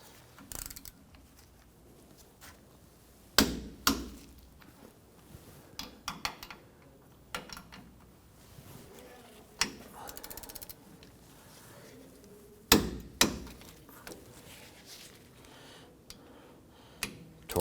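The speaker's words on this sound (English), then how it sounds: "Torque down our caliper bracket bolts to 63 foot-pounds." A torque wrench ratchets in short clicking bursts while caliper bracket bolts on a 2005-2021 Nissan Frontier are tightened, with sharper louder clicks at intervals over a quiet background.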